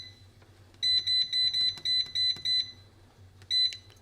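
An air fryer signals the end of its cooking cycle with a run of seven loud, evenly spaced electronic beeps, a short pause, then one more beep over a low steady hum.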